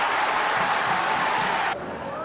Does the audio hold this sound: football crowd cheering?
yes